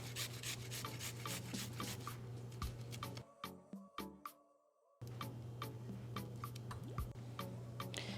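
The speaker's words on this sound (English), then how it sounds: "2 cloves of garlic, also grate right into the rice" Garlic cloves are grated straight into cooked rice, making quiet, rapid rasping strokes in a steady rhythm close to the mic, with a short pause in the middle before the scraping resumes.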